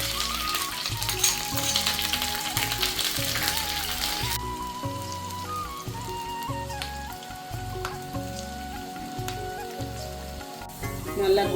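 Fenugreek seeds, curry leaves and chopped shallots fry in hot oil for a tuna and raw mango curry, a steady close, dense sizzle and crackle with stirring throughout, no voices.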